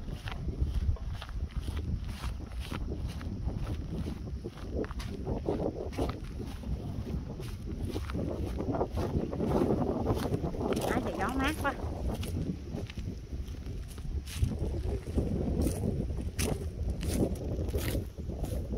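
Strong wind buffets the microphone in continuous rumbling gusts during a countryside fishing outing, forming a loud, steady roar that swells and eases throughout.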